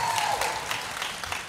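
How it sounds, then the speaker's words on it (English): Short burst of audience applause for a studio guest, a soft wash of clapping lasting under two seconds with a faint voice briefly over it. "Can we give her a round of applause"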